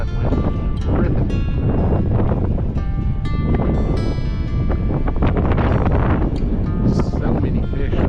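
Strong wind buffets a boat out on the water and roars across the microphone almost continuously. People talk loudly over the gusts.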